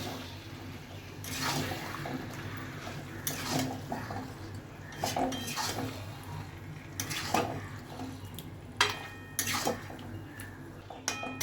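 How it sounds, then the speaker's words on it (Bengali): Fish coated with salt and turmeric being stir-fried in a pan until dry, with scraping and clinking of a utensil against the pan over a steady low sizzle, close by. "তো যতক্ষণ না শুকনো হয় ততক্ষণ আমি এই মাছটাকে ভালো করে কষিয়ে নেবো।"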